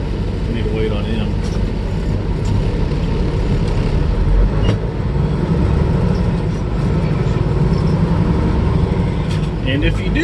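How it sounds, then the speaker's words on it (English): Steady road noise of cars rushing past in cross traffic at an intersection that does not stop, heard from a waiting truck cab, a continuous broadband roar with small thumps and no clear breaks. "we need to wait on these cars because the cross traffic does not stop"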